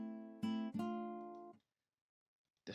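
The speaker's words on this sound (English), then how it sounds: "So originally the guitar sounds like this." Virtual guitar in FL Studio, dry with no amp plugin: two plucked notes ringing in quick succession, the second sustaining about a second before cutting off, followed by silence and a brief new attack at the end.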